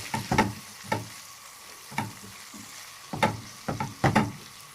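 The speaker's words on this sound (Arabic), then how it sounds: "هننزل بالبصل ده عشان نكرمل البصل بتاعنا" Onions frying in butter in a pan to caramelize, with a steady sizzle broken by several sharp bursts as they are stirred or tossed; no one speaks.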